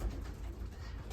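Racing pigeons, youngsters and older birds, coo softly inside a loft, a low steady murmur close by with no talk.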